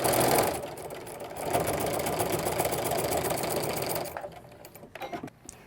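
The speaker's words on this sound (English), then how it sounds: "I'm just stitching this down, keep it in place for when we're ready to stitch the rest of the top on" A sewing machine runs steadily, stitching a basting seam through fabric for a foam-structured nesting basket, loud and continuous for about four seconds before slowing into a few short bursts and stopping.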